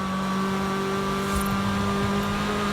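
Car engine in Forza Horizon 5 drones loud and close under braking and a downshift, its pitch shifting with a brief blip midway, with no voices.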